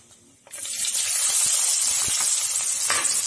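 Onion hits hot coconut oil in a mud pot, and a loud, steady sizzle bursts on suddenly and keeps crackling with a few sharper pops.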